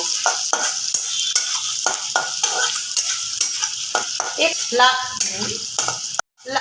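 Onions fry on low gas in a pan, a continuous close sizzle broken by repeated scraping strokes of a spoon stirring, with a brief clatter near the end.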